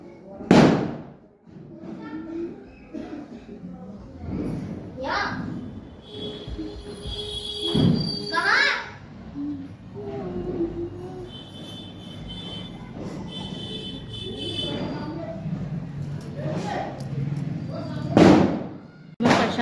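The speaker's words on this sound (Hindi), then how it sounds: "और ये देखो ये पटाखे अभी जलाएंगे सब।" Diwali firecrackers go off in loud sharp bangs and crackling bursts at irregular intervals, some near and some farther off, while people talk between and over the explosions.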